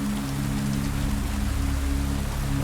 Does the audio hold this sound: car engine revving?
no